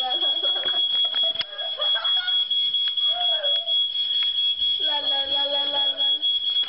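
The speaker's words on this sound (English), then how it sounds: "While she was straightening my hair, the smoke detector, whatever you call it, decided to go off, and Angie is starting to piss me off." A steady high-pitched smoke detector alarm drones continuously throughout, with a voice speaking and laughing over it in bursts.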